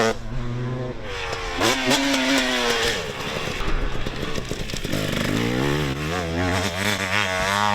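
A motocross bike rides a moto track, its engine revving hard and rising and falling in pitch through throttle bursts and shifts, loud and close throughout.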